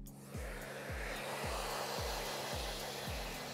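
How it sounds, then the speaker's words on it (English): A hair dryer with no nozzle drying hair while styling a runway look, a loud, steady close-up blowing roar with a faint repeating pulse, heard alone. "Dryer with no nozzle. I'm just gonna dry the hair off"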